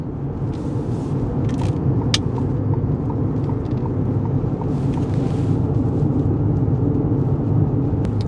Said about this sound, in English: Near silent vehicle.